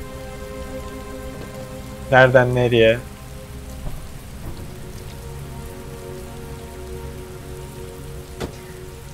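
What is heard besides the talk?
heavy rain in video game Heavy Rain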